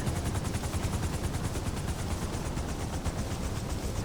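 Rapid automatic gunfire in the video game GTA 5 rattles steadily for a few seconds, a dense run of shots at even pace, moderately loud with no voices.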